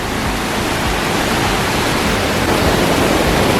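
Steady rushing water at Kravice Waterfalls in a forested Bosnian gorge, a loud continuous broadband roar of falling water heard up close and unbroken throughout, with no voices.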